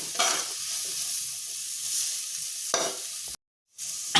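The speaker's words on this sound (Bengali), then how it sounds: "এবার আমি গরম মশলাটাও দিয়ে মিশিয়ে নিলাম" Vegetables fry in a pan with garam masala while a spatula stirs them, producing loud close sizzling and scraping strokes that drop out briefly for a moment near the end.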